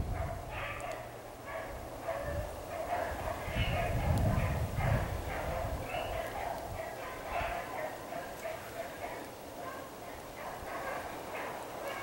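Hunting dogs bark and yip at a distance near a hunting club property line, in repeated faint calls mixed with rustling and a voice talking.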